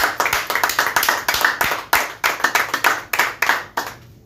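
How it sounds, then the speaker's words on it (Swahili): A church congregation at a youth service claps for the teacher, loud rhythmic clapping in quick regular bursts, fairly close and continuing steadily without talk. "Simpigie mwalimu makofi mazuri."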